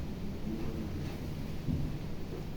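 Steady roar of strong wind and heavy rain with occasional dull knocks of mangoes from a neighbor's tree hitting the roof, a continuous dense wash heard close with no talking.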